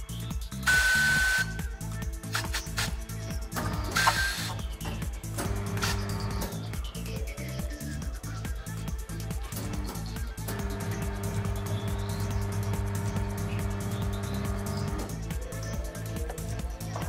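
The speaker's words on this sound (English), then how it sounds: "The tire bead will now be levered over the mounting head." A Twin Busch TW X-11 tyre changer runs with a steady motorized hum and repeated mechanical clatter while the mounting head levers a tyre bead over, with brief hissing air bursts near the start.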